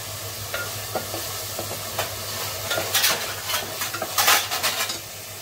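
Onion cooking in a pan for a spicy crab curry, with a low sizzle and a spatula scraping and clicking against the pan, the strokes growing quicker and louder toward the end.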